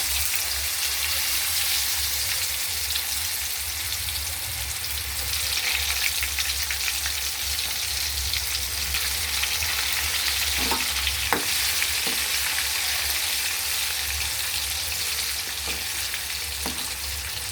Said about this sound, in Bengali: হালকাভাবে ভাজতে হবে যাতে ভেতরটা হয়ে থাকে।